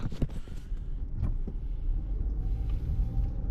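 Road traffic near a bridge used for striped bass fishing, with steady low rumbling of cars passing close by and a few sharper bumps of vehicles rolling over the roadway, continuous with no talking.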